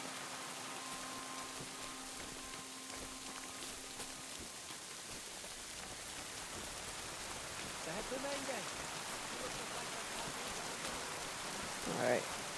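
Steady rain falls in the video game Kingdom Come Deliverance II, a continuous even hiss with a few faint tonal sounds rising briefly near the end.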